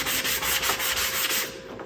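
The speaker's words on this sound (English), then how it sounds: "I'm just sanding the next piece" Close, continuous rasping of sandpaper on a wooden boho-style decor piece being prepared for stenciling, with steady back-and-forth strokes and no voices.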